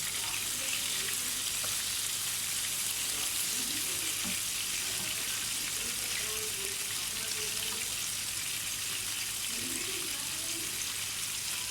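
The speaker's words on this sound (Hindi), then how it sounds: "ये अब एक साइड से फ्राई हो गए हैं, इनको मैंने पलट दिया है।" Chicken sticks fry in a pan after being turned over, giving a steady broadband sizzle that stays even and continuous throughout, with faint clinks of handling underneath.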